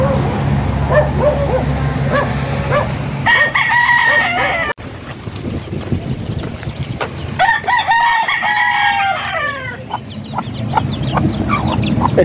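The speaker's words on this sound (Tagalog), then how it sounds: "Ang manok." A rooster crows loudly twice in rural Laguna, Philippines, each call a drawn-out rising-falling cry, with dog barks and clucking hens mixed into the busy outdoor background.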